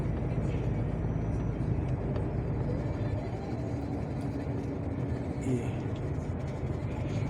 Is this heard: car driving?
yes